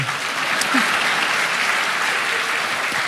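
A congregation applauds during a church sermon, a steady, dense wash of many hands clapping at once that holds evenly for about three seconds.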